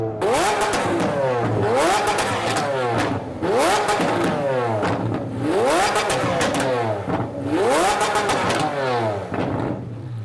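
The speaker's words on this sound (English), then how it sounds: "And then this, and then watch the flames." A Lamborghini Aventador engine revs hard in four repeated bursts while shooting flames, each climbing in pitch then cutting off with crackling pops, loud and close.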